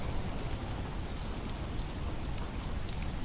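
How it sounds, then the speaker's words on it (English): Heavy simulated rain hisses continuously in Microsoft Flight Simulator 2024, a dense, even wash of falling water that stays loud and unbroken, with no voices. "Rain, get those particle effects in."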